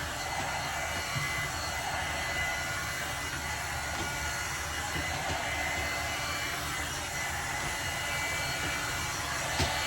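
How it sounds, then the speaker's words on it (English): A hair dryer blows steadily on hair at close range, a loud continuous broadband whoosh that holds an even level for the whole stretch with no speech over it. "This dryer is pretty quick. I just like to make sure it's completely dry."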